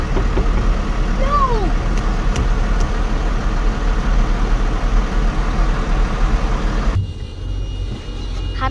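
A John Deere tractor idling in a Christmas lights tractor run, a steady low engine rumble that holds for about seven seconds, then drops away as the sound cuts to a quieter, fainter hum.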